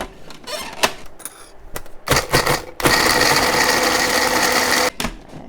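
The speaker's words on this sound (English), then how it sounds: "I'm going to add them to my food processor here" A food processor blends soaked ingredients for vegan caramel in short pulsed bursts, then runs in a loud, steady whirring grind for about two seconds and stops, with rattling clatter between the pulses.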